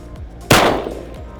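A single loud shotgun blast fired outdoors at bottles on Texas ranch land, a sharp close crack with a long decaying tail, with quiet before and after.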